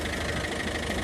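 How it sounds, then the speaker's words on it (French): A car engine left idling, a steady continuous rumble held at even loudness from start to finish with no talk over it. "laisse tourner le moteur"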